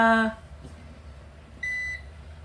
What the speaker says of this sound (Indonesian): Nah, dia bakal bunyi bip, bip. Setiap beberapa detik sekali bunyi bip.